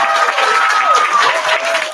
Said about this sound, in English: Clap her again.